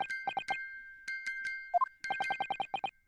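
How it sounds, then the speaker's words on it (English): Music box in the video game The Great Ace Attorney chiming Morse code, bright metallic tones tapped in short and long groups with a brief pause between bursts. "Is the defense belief that the sound emanating from this music box is not supposed to be music?"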